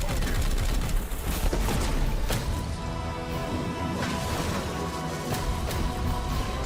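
Dense, continuous gunfire and blasts from a Warhammer 40,000: Chaos Gate - Daemonhunters cinematic trailer, loud and layered with whooshes and impacts, with no voice on top.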